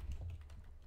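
Rapid typing on a computer keyboard while setting up a ComputerCraft remote control turtle tutorial: quiet, close key clicks in an uneven quick patter, alone with no talk.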